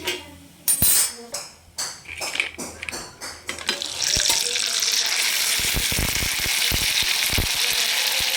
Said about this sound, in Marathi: अजून एक पापड तळून दाखवते